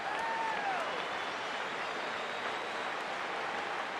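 Stadium crowd in the baseball video game MLB The Show 15, Mets at Marlins, a steady loud roar and murmur of many voices filling the whole stretch, rising slightly as a pitch just misses outside, with no talk over it.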